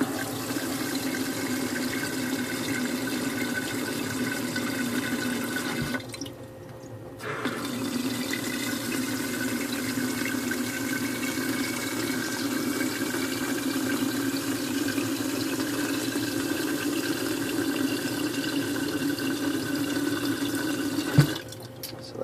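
Cold water pours steadily from a faucet onto a 3D-printed thermochromic PLA faucet cover, a continuous nearby gushing and splashing with a brief drop in flow partway through.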